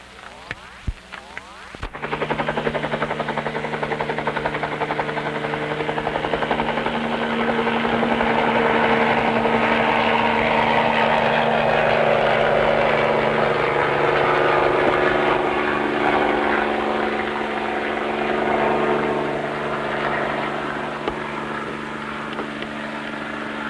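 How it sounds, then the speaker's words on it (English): A 1958 police helicopter spins up and lifts off for a test hop, rotor and engine swelling into a loud, steady throbbing drone after a few sharp clicks, then holding close and constant. "Sheriff Anthony is going to take a test hop in the helicopter now"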